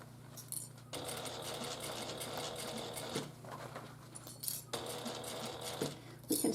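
A sewing machine bastes piping onto a Paulette handbag at a 4.0 stitch length, running in a close, steady mechanical hum with brief stops and restarts.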